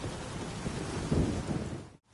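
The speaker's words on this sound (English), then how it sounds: "A storm, damn it." A thunderstorm in The Witcher 3 rolls with a low rumble of thunder over steady, dense rain, loud and continuous until it cuts off abruptly near the end, with no talking.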